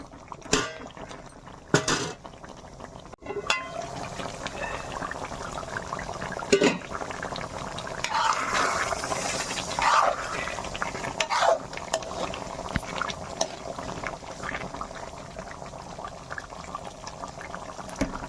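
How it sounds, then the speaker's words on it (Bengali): Chicken liver masala with potatoes bubbles and simmers in a pot, a steady close cooking sound with occasional clinks and scrapes of a utensil against the pot and no voices. "আলুগুলো যাতে ভালো করে সিদ্ধ হয়ে যায় সেই জন্য দিলাম।"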